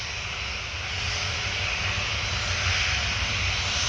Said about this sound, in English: It looks like it's gonna be a standing takeoff.